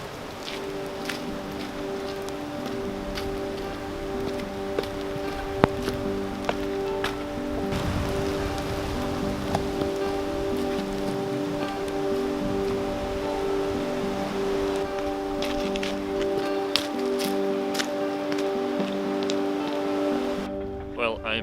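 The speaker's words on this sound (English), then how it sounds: "I was just about to get out and then a big downpour came." A heavy downpour pelts a parked car in the Blue Mountains, a dense, steady patter drumming on the roof and windows while a low tonal hum runs underneath.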